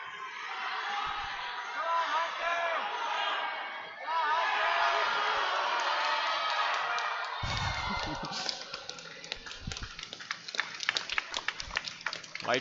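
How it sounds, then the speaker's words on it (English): A crowd at a provincial lead and top rope climbing competition cheers and whoops loudly and steadily, then the sound breaks into scattered claps and shouts. An announcer talks over the noise. "Crowd's excited."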